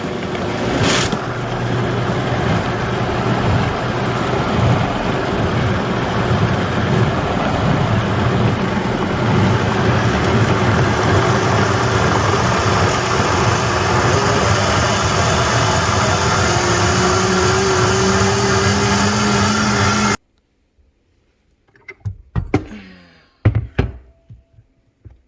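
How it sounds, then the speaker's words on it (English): A blender runs steadily, blending a homemade pasta and pizza sauce, a loud continuous whir for about twenty seconds that cuts off abruptly, followed by a few clunks and knocks. "I'm going to just start and blend it all the way"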